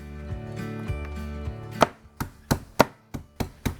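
Knife chopping bruised lemongrass stalks into pieces on a board for Thai tom yum seafood hot pot, about seven sharp, close cuts in an uneven rhythm after some low rustling.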